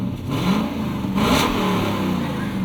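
A 1998 Lexus GS 400 with its 1UZ V8 revs up loudly and close by, the leaky exhaust with holes and a rattling heat shield giving a rough, continuous roar that swells and eases.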